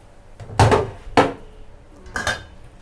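Rice being stir-fried in a pan for shrimp-paste fried rice with cha-om omelette, with three sharp metallic clanks of a utensil striking the pan, spaced apart, close and fairly loud.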